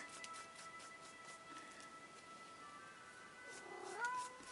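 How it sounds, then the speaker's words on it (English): A house cat meows faintly in a quiet room, with a short rising call near the end over soft background hiss. "My cat's coming."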